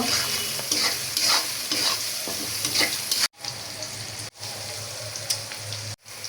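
Onions frying in oil with a little salt for a chicken dish, a close, steady sizzle with repeated scraping stirs, interrupted by three brief silent gaps.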